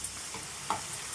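A spoon scrapes and stirs bottle gourd halwa thickening in a pan, giving a brief soft sizzle with a couple of faint clicks.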